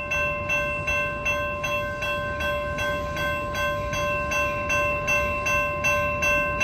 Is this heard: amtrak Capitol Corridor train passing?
yes